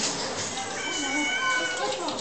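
A cat meows on a cow farm, drawn-out tonal cries rising over a soft noisy barn background while people talk nearby.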